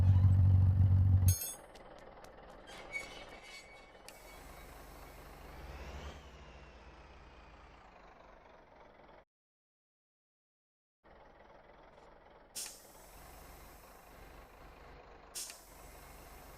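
A semi truck in the video game Motor Town strains up a hill, its engine rumbling low and steady. Sharp air-brake hisses break in, and the sound cuts to silence for about two seconds before the laboring engine resumes.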